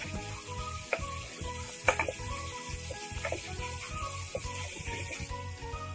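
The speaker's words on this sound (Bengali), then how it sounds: "এরপরও মিনিট দুয়েক মতো এটাকে নাড়তে হবে।" Spice masala fries in hot oil in a pan for chithol fish kalia, giving a steady crackling sizzle with occasional stirring scrapes, under a rhythmic music track.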